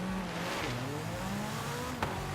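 A car engine drones steadily and shifts pitch during an off-road race in Forza Horizon 3, with a sustained growl and one brief sharp click near the end.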